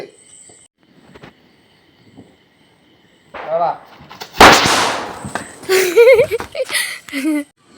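A kuruvi vedi firecracker pops sharply outdoors at a family Vishu celebration, one loud close burst amid excited voices talking and shouting.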